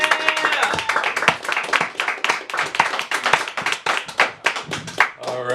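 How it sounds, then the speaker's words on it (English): A round of applause from the audience at a hip-hop museum induction, distinct loud hand claps in quick irregular succession from a small nearby crowd, with a voice at the very end. "All right, round of applause,"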